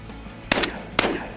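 Two sharp shotgun blasts a half-second apart, fired at an orange clay target on an outdoor shoot, each a loud crack with a short ringing tail over faint background air.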